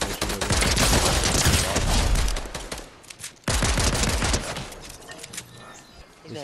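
Dense bursts of rapid gunfire from the video game Fortnite, Chapter 4 solo vs squads, loud and close, with a short pause before another sustained volley.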